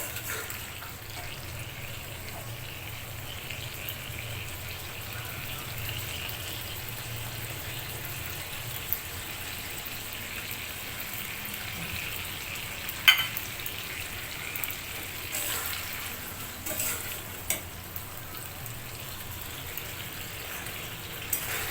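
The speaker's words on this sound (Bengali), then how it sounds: "নেড়ে চেড়ে মিশিয়ে নিচ্ছি ভালো করে" Okra frying in mustard paste in a pan, stirred and mixed, giving a steady low sizzle with faint scraping and a few soft clinks; no one speaks.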